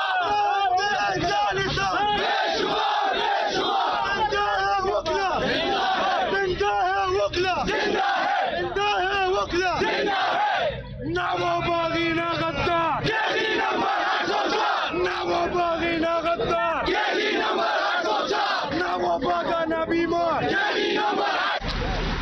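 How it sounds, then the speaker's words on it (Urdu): A crowd of lawyers chanting protest slogans outside the Supreme Court, loud and continuous call-and-response rhythm with many voices, a brief dip midway before the chanting resumes. "یہاں پر بھی آپ دیکھ سکتے ہیں بکلا نعرے بازی کر رہے ہیں اور آگے کی جانب بڑھ رہے ہیں۔"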